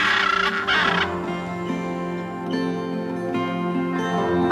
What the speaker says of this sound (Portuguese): A arara azul, que os pantaneiros chamam de araraúna, está cada vez mais rara.